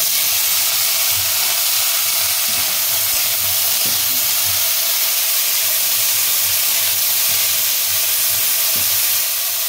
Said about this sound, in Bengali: পেঁয়াজটা ঠিক পোস্ত ঝিঙার মতো গোল গোল করে কেটে নিচ্ছি, এগুলো একটু সাঁতলে নেব।